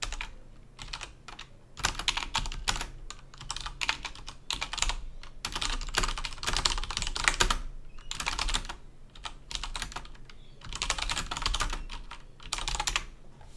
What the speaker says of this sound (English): Let's type to him on Slack.